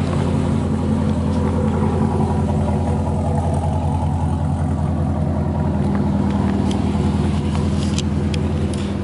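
A 2007 Chevrolet Corvette convertible with a Borla exhaust runs close by at a steady, deep rumbling idle that holds evenly throughout.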